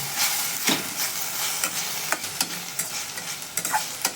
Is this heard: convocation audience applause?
no